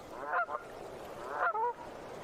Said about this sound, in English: On a passage from further north, Canada geese rest here.